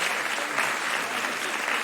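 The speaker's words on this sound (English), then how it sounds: "Let's give Francois a big round of applause" Audience applause at an English-language speaking event on magic and wonder, a steady, dense wash of many hands clapping continuously and fairly loudly for the whole stretch, with no talk over it.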